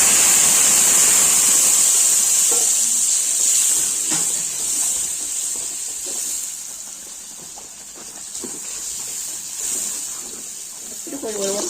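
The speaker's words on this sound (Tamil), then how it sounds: "ஃபைவ் மினிட்ஸ் வந்து நல்லா நம்ம வதக்கிக்குவோம்" Ground masala paste sizzles steadily while being sautéed in a pan for an araithu vitta meen kuzhambu, a bright hissing sizzle running throughout with occasional stirring clicks and a voice speaking over it.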